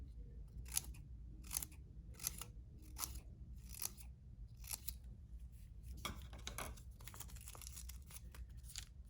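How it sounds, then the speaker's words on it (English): Scissors snipping little bites into construction paper for a kindergarten craft, a close series of quiet rhythmic crisp cuts with no voices. "I'm gonna take my scissors and I'm gonna do little bites with the scissors"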